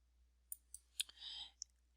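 A few faint, sharp computer mouse clicks, spaced apart in a quiet room, with a short soft rustle between them and one last small click.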